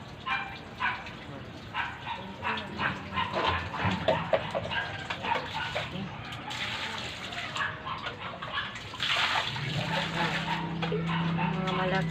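A dog being bathed with soap and water yips and whimpers while water splashes and runs steadily, with a person talking throughout; the running water grows louder near the end.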